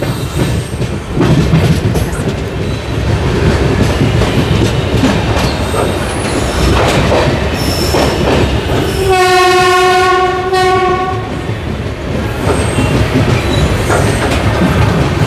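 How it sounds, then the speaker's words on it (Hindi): A train arriving at platform 1 of Patna Sahib station rolls loudly with steady rumbling and clatter, its horn sounding a long tonal blast midway before the rumble continues. "1 नंबर प्लेटफॉर्म पे हमारी ट्रेन पहुंच रही है।"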